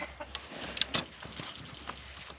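Chickens cluck and chatter nearby in a coop in deep snow, with a few sharper squawks standing out over a low background rumble.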